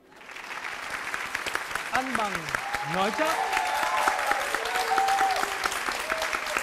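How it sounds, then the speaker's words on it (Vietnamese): A television game show studio audience bursts into steady applause that swells and sustains for several seconds, with a voice speaking over the clapping at the start. "quý vị khán giả có mặt trong trường quay đã vỗ tay rồi"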